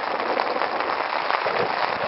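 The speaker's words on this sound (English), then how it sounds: "it started pouring rain" Heavy rain pours steadily onto a tent during a thunderstorm, a dense, continuous hiss and patter close by with no letup and no voices.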